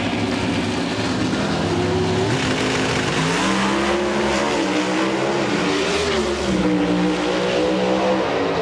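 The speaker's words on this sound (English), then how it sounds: "The only Ford privateer pro stock car in drag racing goes to the" Ford and Dodge Avenger pro stock drag racing cars roar at the 1998 NHRA Revell Nationals in Dallas, loud engines rising and falling in pitch as they accelerate down the strip, with no voices.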